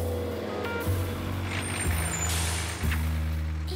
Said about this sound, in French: Et c'est un camion poubelle.